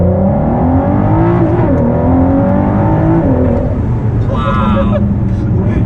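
A Ford GT launches and accelerates hard from inside the car, a loud engine roar rising through the gears with stepped pitch climbs, and a voice briefly breaks in near the end.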